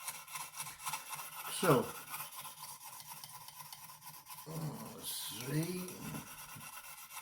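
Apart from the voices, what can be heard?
knife sharpening strokes on Lansky sharpening stone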